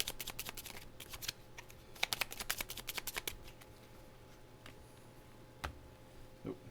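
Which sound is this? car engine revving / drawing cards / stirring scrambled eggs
drawing cards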